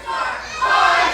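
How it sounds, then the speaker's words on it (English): A crowd of kids cheering and shouting at a live wrestling event, a loud sustained roar that swells louder in the second half. "the cheers as all of the kids in the crowd are seeing their hero"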